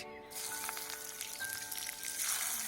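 Chopped onions dropped into hot oil already seasoned with bay leaves, whole spices and cumin, giving a steady close sizzle and crackle of frying that brightens and swells toward the end.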